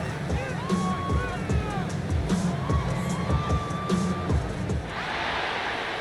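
A stadium crowd roars and cheers continuously in a Madden NFL 26 snow game between the Packers and Colts at Lambeau Field, a dense, steady wash of noise with whistles and bursts of shouting throughout.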